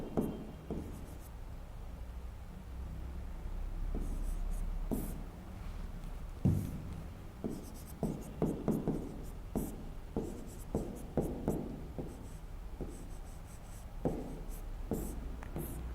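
Marker or chalk writing on a classroom board during a Hindi grammar lesson, a run of scratchy strokes and taps in clustered bursts with pauses, fairly close and clear with no talking over it.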